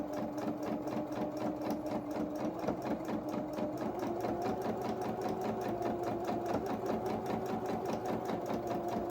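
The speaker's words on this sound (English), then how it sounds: "So then we're just going to take a few stitches down here." A sewing machine stitches doll-sized mechanic's coveralls, running in a steady, close, continuous whir of rapid needle strokes for the whole stretch.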